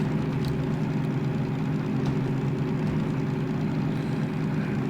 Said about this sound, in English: the train should just kind of hold this speed once we reach our desired throttle mixture